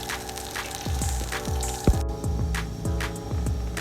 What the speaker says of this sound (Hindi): चावलों का जो पानी रखा था उसको उबाल आ चुका है